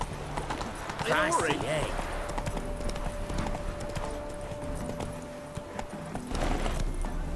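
Hoofbeats from the horse Roach galloping in Witcher 3 sit beneath a man's speech and game ambience, with the clip-clop steady but partly masked by the voice and a sustained background tone.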